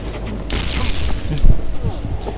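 Gunfire and a booming explosion from the online shooter game BlackFire, with a heavy blast mid-clip over a steady rumble of game noise, loud and close.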